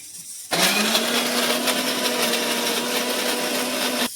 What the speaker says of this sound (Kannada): ಇವಾಗ ಇದನ್ನ ಮಿಕ್ಸಿಗೆ ಹಾಕೊಳ್ಳೋಣ